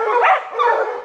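Bear-hunting hounds give yelping, baying barks at close range, two overlapping bursts of voiced cries filling about a second with no break.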